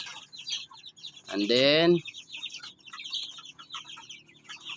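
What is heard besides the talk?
Talisain chickens clucking in a coop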